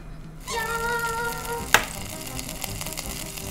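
An egg fries in a pan, a steady hissing sizzle that starts abruptly and continues with a sharp clack partway through, alongside faint tonal background sounds.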